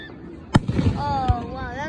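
Fourth of July fireworks bursting at a public display, two sharp booming reports with crackle between them, heard amid people talking and exclaiming nearby.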